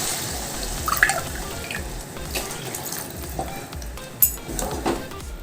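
About one and a half tumblers of water pour steadily into a pot of green peas pulao, a continuous wet rush with faint sizzling and a few clinks and drips over it, fairly close and without talk.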